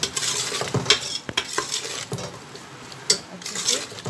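Spices fry and are stirred in a pan for an Irani-style chalo khoresh: a spatula clacks and scrapes against the metal in uneven strokes over a steady background sizzle, with a couple of sharp clinks.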